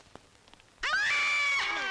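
A doorbell whose chime mimics a woman screaming bursts in suddenly after near silence with a loud, sustained, shrill wail lasting about a second.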